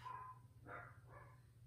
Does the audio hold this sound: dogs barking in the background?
yes